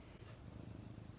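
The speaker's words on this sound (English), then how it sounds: "it's just my cat purring on my lap." A pet cat named Pumpkin purrs on a lap, a soft, close, continuous rumbling purr with a steady pulsing rhythm, heard alone.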